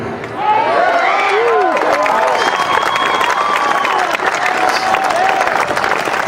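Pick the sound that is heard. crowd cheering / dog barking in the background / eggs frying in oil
crowd cheering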